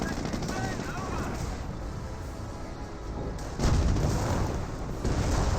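Stormtrooper infantry gunfire in the Company of Heroes video game crackles as sustained rattling bursts with distant booms, moderately loud and continuous, growing heavier toward the end.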